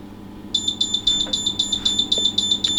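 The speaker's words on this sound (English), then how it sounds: "Yes, beep, beep, beep." An electronic current-limit warning beeper sounding during a bench test of a Simpson 260 Series 7M multimeter, a rapid string of sharp, evenly spaced high beeps, close and clear, with a faint hum underneath.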